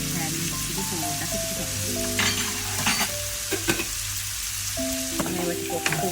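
Ingredients for pasta frying in a pan, a loud continuous sizzle with stirring scrapes and light taps of a utensil, close and steady.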